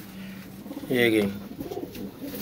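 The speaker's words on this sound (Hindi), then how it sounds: "ये टैडी कबूतर है" A pigeon coos once in a short warbling call, close and fairly clear over soft background noise, with a voice speaking briefly around it.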